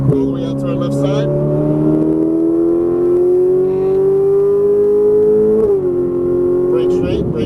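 A Ferrari 458 Italia engine accelerates hard, its loud rising whine climbing steadily for several seconds before a sharp shift-like break and a drop in pitch, close and dominant.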